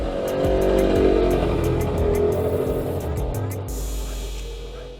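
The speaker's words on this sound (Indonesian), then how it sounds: "Bentar, ada motor lewat." Motor vehicle passing close by outside, a loud engine roar that builds, peaks and then fades over several seconds, with a few faint clicking sounds also audible.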